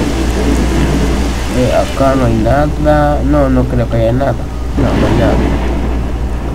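Steady rain with low rumbling thunder in the video game S.T.A.L.K.E.R.: Shadow of Chernobyl, a continuous wash of downpour running throughout while someone talks over it.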